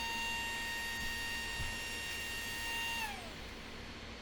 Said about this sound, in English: here I'm using a 1/4 inch carbide burr, and this is how I put my sharpening choil in